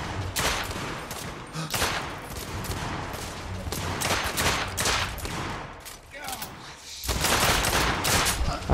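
Pistol and other gunfire in The Order 1886 video game, a loud fusillade of repeated shots in bursts with brief lulls, continuing throughout.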